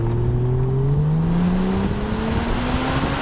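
A Toyota Crown Athlete with a factory 1JZ single-turbo VVT-i inline-six runs close by, its engine tone climbing steadily under load beneath a loud, continuous broadband road and wind roar.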